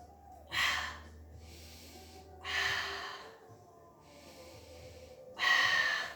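Breathing during a Pilates exercise: three deep, close breaths rush in and out at slow, even intervals, each a strong airy swell over a quiet background.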